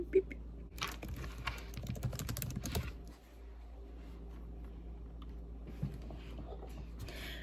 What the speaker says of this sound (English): I just typed in what is spoon theory to my list of YouTube video ideas